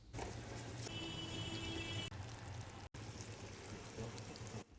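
Water pours into a pan of spice paste and oil for a green bean curry, a steady close rush and trickle lasting several seconds with a brief break partway.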